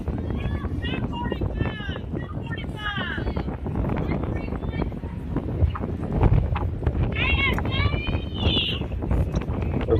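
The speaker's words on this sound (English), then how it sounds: "There's a good gust up to about 45 miles an hour." Strong wind gusts buffet the microphone at an outdoor high school varsity softball game, a constant low rumble running under continuous play-by-play commentary.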